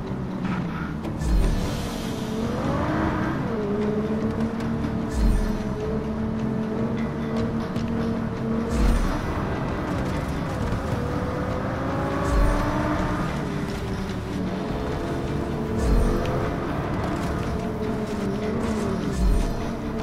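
A car engine droning steadily while driving in the video game Just Cause 3, with revs rising and falling in waves and occasional thumps, loud and continuous throughout.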